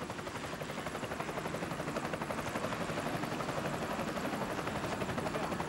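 A helicopter's rotor thumps in a rapid, steady rhythm over the start of a beach motorcycle enduro race, a loud continuous chop with whining engine noise and no talking.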